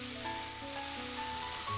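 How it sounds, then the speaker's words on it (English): A frying pan coated with mayonnaise sizzles steadily in a video game scene, a constant hiss running under soft musical tones throughout, without any talk. "She heats a frying pan coated with mayonnaise rather than oil"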